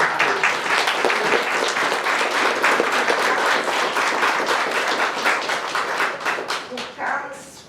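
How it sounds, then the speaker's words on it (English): A presentation audience breaks into a big round of applause, dense clapping sustained for several seconds before thinning out near the end, with voices mixed in. "I want a big round of applause for somebody."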